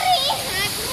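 Children splash in a swimming pool in the early morning, giving a short burst of watery splashing with a voice talking over it.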